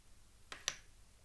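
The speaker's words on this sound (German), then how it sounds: "Kann ein bisschen Schnippen üben." Two quick finger snaps in close succession, faint and sharp against a quiet room.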